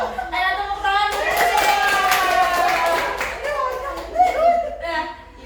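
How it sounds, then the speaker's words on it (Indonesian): A group of mothers in a group counseling session claps hands together, the clapping mixed under loud voices chanting or calling out in unison, with a few louder claps near the end. "Ayo tepuk tangan dulu."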